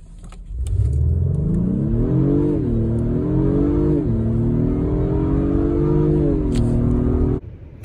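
A 2022 Acura MDX Type S with a 355-horsepower turbo V6 and all-wheel drive launches hard from a standstill. The engine drone climbs loudly through several gear changes, then cuts off abruptly near the end.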